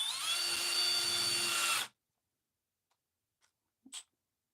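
A cordless power drill running at a steady high whine, close and loud, then cutting off abruptly, leaving near silence broken by a couple of faint small clicks.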